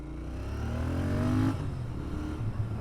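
A Royal Enfield Interceptor 650 pulls away from a green light at a busy intersection, its engine note rising as it accelerates, then easing off after a shift while traffic murmurs nearby.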